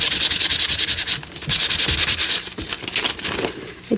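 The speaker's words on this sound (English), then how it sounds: "just doing the sandpaper through it" Sandpaper rubbed briskly over a painted surface layered with Payne's Gray and ink, in quick rhythmic back-and-forth strokes, loud and close, with a short pause partway through and no talk.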